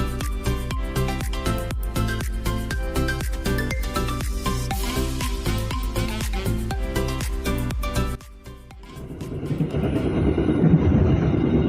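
The Airlangga passenger train rolls along the rails between Surabaya and Jakarta, a fast rhythmic clatter of wheels over rail joints that drops off abruptly and gives way to a louder, rougher rumbling roar.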